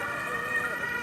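An emergency vehicle siren wails steadily at a busy crossing in Vienna's city centre, fairly distant and continuous through the short stretch, with traffic noise beneath.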